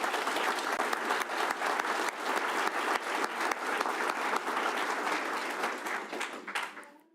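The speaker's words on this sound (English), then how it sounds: "Can I get another round of applause for Kyle?" A graduation audience gives Kyle a round of applause, a full, even burst of many hands clapping that runs steadily for about six seconds before fading out.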